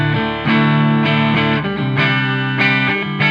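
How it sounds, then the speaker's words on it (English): Electric guitar played through the Line 6 Helix Soldano Clean amp model, a series of ringing chords struck roughly every half second, each sustaining with a bright, slightly effected tone, close and solo without speech. "next you have Soldano Clean."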